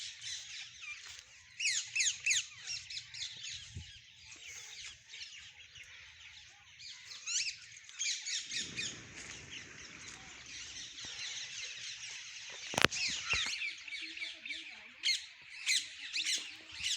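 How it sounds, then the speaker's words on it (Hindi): Parrots squawking and chattering around a secluded hermitage at Vanshivat in Mathura, a series of shrill, harsh calls in irregular bursts, fairly faint and distant, with a brief sharp knock and a stretch of low murmuring voices midway. "तोतों की आवाज़ है।"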